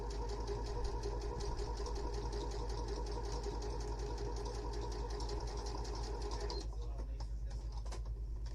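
A sewing machine stitching a fabric face mask, running in a fast continuous whirring drone up close before stopping near the end, with a voice speaking briefly.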